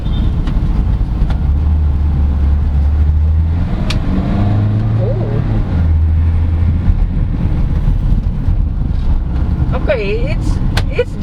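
A 2021 Maxus G10 Elite minivan drives with its gearbox shifting in manual mode, a steady low engine drone and road rumble with rising and falling pitch changes as gears change, loud and continuous throughout.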